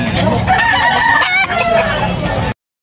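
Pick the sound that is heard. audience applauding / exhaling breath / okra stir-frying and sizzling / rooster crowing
rooster crowing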